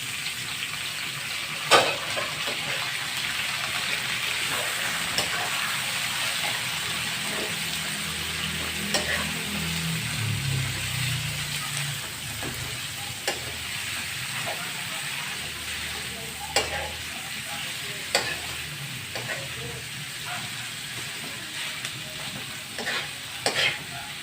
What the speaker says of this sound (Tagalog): igigisa na natin itong isda nga galunggong na tinanggalan ng tinik